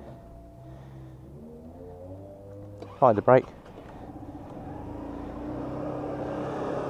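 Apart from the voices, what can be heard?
Lexmoto Chieftain 125cc motorcycle engine starting and idling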